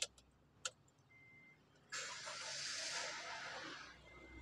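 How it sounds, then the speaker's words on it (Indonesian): A few faint clicks and a tick, then a car engine cranks and catches, settling into a steady running hum. "kita hidupkan engine"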